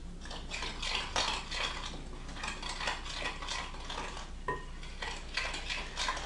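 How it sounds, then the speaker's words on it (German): A spoon stirs a mixture of flour and water in a bowl or pot for a cabbage strudel, with steady scraping and clinking strokes that run continuously and close up, with no talking. "Und das mische ich gut aus."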